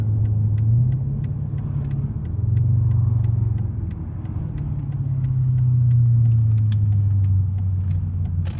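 A 2010 Mercedes-Benz S500 4Matic drives along curvy roads, its engine humming and swelling in pitch as the gearbox drops and rises through gears, with steady ticking clicks over the drone.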